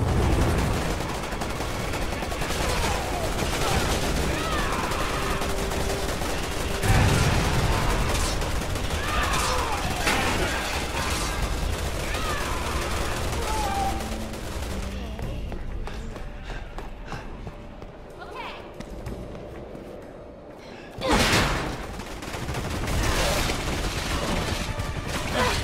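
Dense gunfire rattles through a Resident Evil 6 battle, with rapid bursts and scattered shots running almost nonstop, thinning midway before a loud blast returns.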